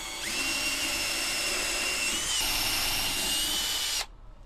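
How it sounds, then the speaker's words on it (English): A power drill boring holes into wood for a folding table runs steadily with a high whine, shifts pitch slightly partway through as it bites, then stops abruptly near the end, leaving a quiet room. "Let's drill some holes."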